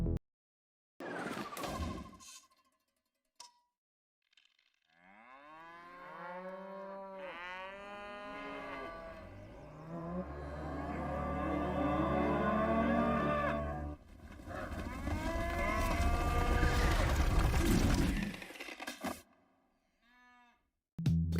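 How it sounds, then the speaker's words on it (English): The THX Moo Can logo plays its long, stylized cow mooing, a chorus of swelling, sweeping moos that build in loudness after a few soft opening sounds, then cut off, with no talking. "It was known as the THX Moo Can."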